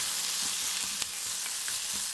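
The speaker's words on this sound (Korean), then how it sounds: "골고루 섞어주세요." Potatoes and fish cake stir-fry with soy sauce and oyster sauce, a steady close hiss of frying with a few soft stirring knocks over about two seconds, no talking.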